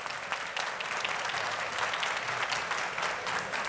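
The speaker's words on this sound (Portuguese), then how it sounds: "Quero pedir palmas para os nossos convidados." An audience at an industry talk event applauds its guests, a dense, steady wash of clapping that holds evenly for several seconds.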